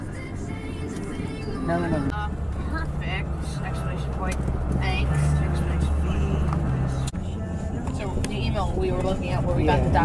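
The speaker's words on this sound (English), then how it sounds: "Driving in the car to go to Target" A car drives along on the way to Target on a snowy day, its steady engine and road rumble running close and continuous underneath a person talking.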